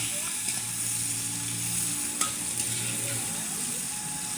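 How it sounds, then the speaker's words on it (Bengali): Pointed gourd frying in a little oil outdoors gives a steady, fairly loud sizzle, with a low hum beneath it and one brief clink partway through. "অল্প তেলেই পটল ভাজা হয়ে যায়।"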